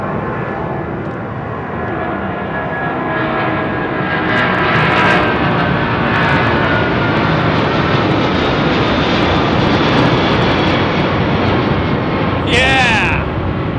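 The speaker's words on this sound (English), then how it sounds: "that QF2 was an awesome departure" The Qantas QF2 jet airliner departs London Heathrow with a loud, sustained engine roar that builds and holds across the whole stretch, and brief bursts of noise break in near the end.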